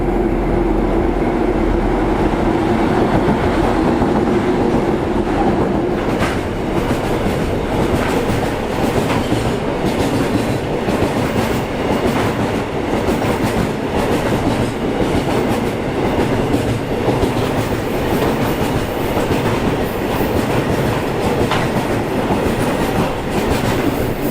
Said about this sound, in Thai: อนนี้ก็กำลังจะมีขบวนรถปูนนะครับเข้ามา